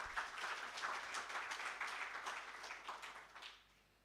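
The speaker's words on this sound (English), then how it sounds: "May we please give the special guest of honor another round of applause" An audience at a military college security seminar gives the special guest of honor a round of applause, dense clapping that holds steady and then fades out near the end.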